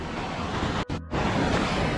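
Sea waves wash against the rocky winter coast of Crimea near Yalta, a loud, steady roar of surf with wind noise that drops out briefly before surging back.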